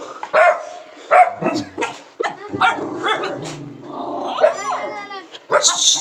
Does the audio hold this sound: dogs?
yes